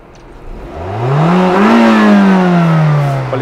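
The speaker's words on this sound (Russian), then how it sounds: "Мотор заведен, конденсат собирается." A parked car's engine, started for inspection at a used-car viewing, revs up loudly through the exhaust pipe, rising in pitch to a peak and then settling into a steady, strong idle hum.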